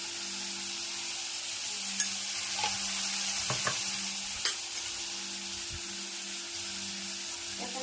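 Tomatoes with salt sizzling in a pan as they fry, a steady hiss with occasional scraping clicks of a spoon stirring, close and moderately loud, no voices.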